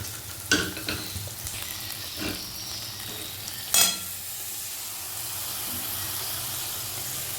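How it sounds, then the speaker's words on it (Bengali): Cashew and poppy seed paste stir-fried in a pan for doi katla, a soft steady sizzle with a few sharper scrapes of stirring, close and moderate, no talking. "এবার আবারও একটুখানি কষে নেব যতক্ষণ না পোস্তর কাঁচা গন্ধটা চলে যাচ্ছে"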